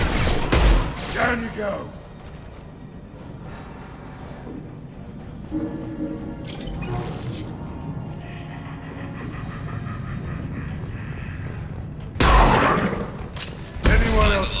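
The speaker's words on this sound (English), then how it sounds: "Firing an impact shot" Gunfire from an impact shot in Mass Effect 2 cracks out in loud, sharp bursts at the start and again near the end, with battle noise and a voice speaking in between.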